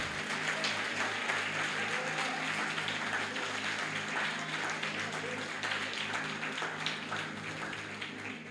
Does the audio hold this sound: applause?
yes